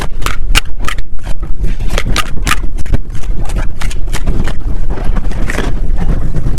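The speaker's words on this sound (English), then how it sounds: "Sorry, it's super windy outside" Strong wind buffets the microphone outdoors, with loud rumbling gusts and a rapid series of sharp flapping bursts throughout.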